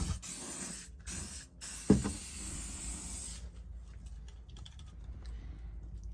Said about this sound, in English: we're just going through and laying some primer on it